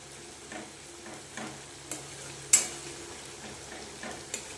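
Ginger-garlic paste and spices fry in a pan with a quiet, steady sizzle, cut by soft utensil stirs and clinks against the pan and one sharper tap, close and low, with no voices.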